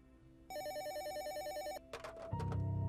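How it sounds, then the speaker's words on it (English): A telephone rings with a bright, repeating electronic trill for over a second, followed by a few clunks and a louder, fuller rumble of handling noise, with no voices. "my phone rang again."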